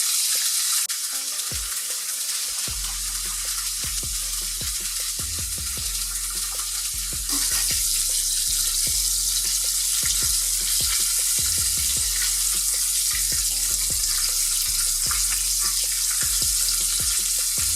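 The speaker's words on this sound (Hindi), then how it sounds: "दूसरे फिश को भी हमने फ्राई होने के लिए डाल दिया इसमें" Fish fillets for a KFC-style zinger burger frying in hot oil, a steady close sizzle and crackle that grows fuller midway, with occasional soft knocks and stirring sounds and no talk.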